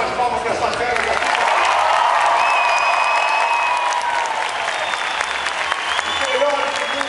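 Dense audience applause and cheering at the Beto Carrero extreme show, a continuous roar of clapping from a large crowd, with an announcer's voice heard over it.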